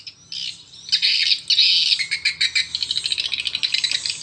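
Swiftlet call recording played for swiftlet farmers, taken from a nesting house that has already been harvested: dense repeated chirping squawks with a strong echo, as if inside a room, fast rhythmic calls filling the second half.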